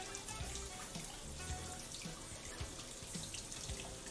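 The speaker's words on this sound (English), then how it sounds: "Let a little bit of water run underneath the shell." Tap water runs over a boiled egg while its shell is peeled, a steady faint splashing stream with small knocks and drips from handling at the sink, no talk.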